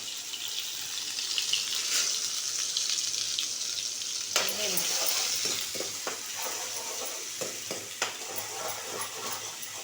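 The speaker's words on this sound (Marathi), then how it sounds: "तेल तापलेलं आहे त्यामुळे एवढा मसाला घालते" Masala spices hit hot oil in a pan, producing a continuous moderate sizzle with scattered crackles and occasional stirring scrapes, heard without talk.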